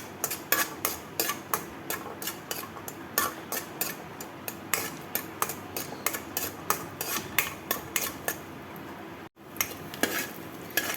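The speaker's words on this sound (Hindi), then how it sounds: "इसी तेल में हम थोड़ा सा लहसुन हल्का सा फ्राई कर लेंगे" A steady sizzle of garlic frying lightly in oil, with regular clinks of a utensil stirring against the pan throughout.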